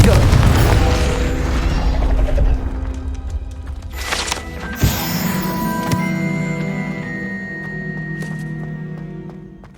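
A Confringo blasting curse explodes in Hogwarts Legacy. It opens with a heavy booming blast, and a second sharp crack comes near the middle. Sustained ringing, mechanical tones and rumbling debris follow before everything fades.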